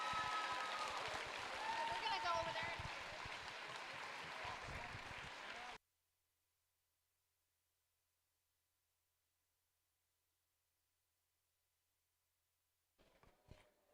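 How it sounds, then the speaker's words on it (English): Audience applause for student leaders at a Coral Sea League tournament, several seconds of dense clapping with voices mixed in, then a sudden cut to silence and a faint return near the end. "If you guys could give them all a fantastic round of applause"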